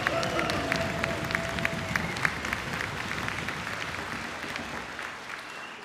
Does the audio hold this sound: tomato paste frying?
no